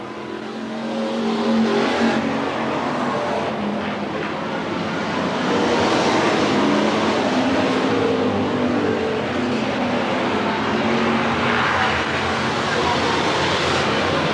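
Dirt-track race cars roar out of turn four at Willamette Speedway in 1991, a dense, steady wall of engine noise from several cars at once, loud and sustained, with an announcer talking over it.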